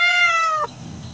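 A single clear cat meow, fairly loud and close, drawn out briefly before cutting off into quiet.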